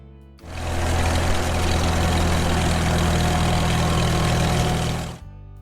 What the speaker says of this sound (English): Under its steelhead lay a 4-cylinder gasoline engine